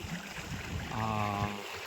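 Combined outflow of two running pump motors gushes and gurgles steadily nearby, with a faint tonal hum from the motor rising partway through beneath the rushing water.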